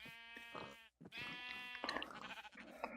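A sheep in the Minecraft video game bleats twice in quick succession, a short wavering cry broken by a brief gap, faint and alone with no voices.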